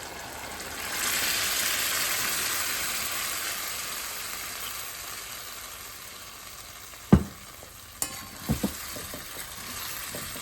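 Boiled moong beans hit a hot pan with oily dal, giving a steady close sizzle and frying hiss, with a few sharp scraping knocks of a spoon stirring near the end.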